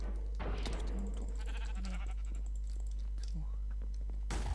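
Minecraft sheep bleats twice, short and distinct, over quiet game background and keyboard tapping, with a man muttering under his breath.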